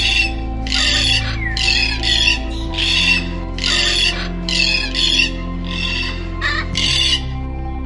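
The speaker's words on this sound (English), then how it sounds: "lived a cheerful parrot named Cookie" A cartoon parrot in a children's story squawks again and again in short, shrill bursts, loud and close over a steady background music bed.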